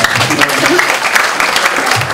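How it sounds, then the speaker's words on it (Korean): Audience applause in a university lecture hall before a president's special lecture, a loud dense patter of clapping lasting a couple of seconds with voices faintly mixed in. "한번 박수를 좀 보내주실까요?"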